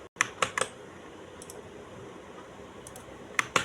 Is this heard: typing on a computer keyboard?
yes